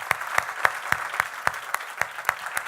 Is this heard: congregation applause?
yes